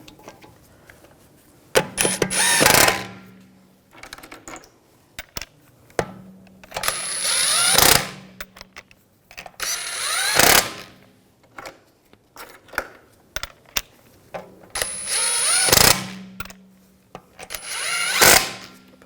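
Lug bolts on the rear wheel of a 2007-2013 BMW 328i are run down by a power tool in about five or six short whirring bursts, each rising sharply then stopping, with quiet pauses between.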